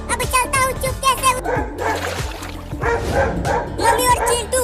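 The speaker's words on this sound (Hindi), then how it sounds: "मम्मी और चिंटू, वो देखो, वो दोनों कुत्ते उस बिल्ली को पकड़ने की कोशिश कर रहे हैं।" Two cartoon dogs in a children's animated show bark and yip rapidly while chasing a cat, their repeated barks mixed with background music and character voices.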